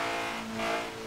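A Honda S2000 engine holds a high, sustained rev above 9,000 RPM in Forza Horizon 2, a loud, steady tonal whine that rises and dips slightly, heard alone.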